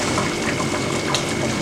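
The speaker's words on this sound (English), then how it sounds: "Then I began to wash under my tap, cold water, and that is it." Cold tap water runs while fresh bitter leaves are washed for soup, a steady close splashing gush with small bubbling surges and no talk.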